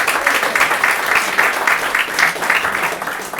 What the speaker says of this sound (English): Big round of applause for Rose.